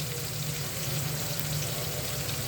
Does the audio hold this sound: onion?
yes